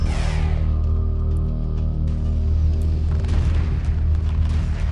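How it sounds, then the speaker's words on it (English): Ion cannon frigates in the space strategy game Homeworld Remastered unleash a barrage: a loud, continuous rumble of deep booming explosions, with a sharp blast at the start and layered bursts rolling on without pause. "I figured one more barrage would do it."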